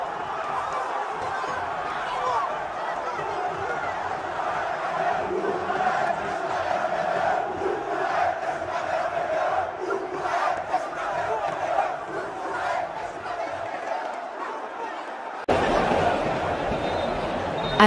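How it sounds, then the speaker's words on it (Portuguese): A stadium crowd roaring after a Vasco goal, a dense and sustained wall of cheering and chanting that swells even louder near the end. "A torcida foi à loucura."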